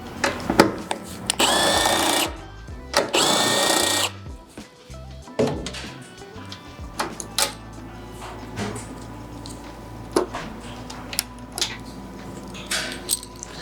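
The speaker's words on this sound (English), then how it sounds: "Now I'm going to use my 10mm socket to remove the 2 mounting screws from the base of the tank." A 10mm socket works loose two mounting screws at the base of the gas tank on an SG250 scooter, giving close, loud bursts of ratcheting and tool whir early on, then scattered clicks and metallic knocks.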